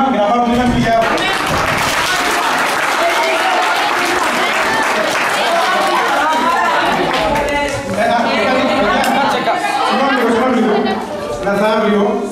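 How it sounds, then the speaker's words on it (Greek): Audience at a secondary school theatre performance applauding loudly and steadily, dense clapping filling the space with some crowd noise and a voice speaking over it. "ένα ακόμη χειροκρότημα για να πάρουμε ένα φιλιά"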